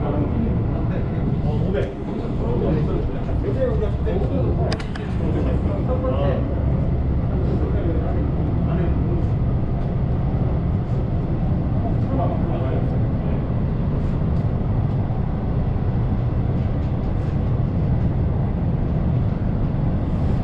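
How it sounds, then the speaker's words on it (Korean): Suin-Bundang line subway train nearing Handaeap station, a steady, loud interior rumble of wheels and motor that runs unbroken throughout, with voices talking over it. "열차가 한대암역을 가까이 하고 있습니다."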